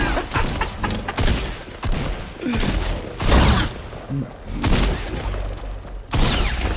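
Rapid blaster fire in a Fortnite Star Wars match with Kylo Ren, dense bursts of loud shots repeating across the whole stretch, with thuds and bangs mixed in and voices talking over it.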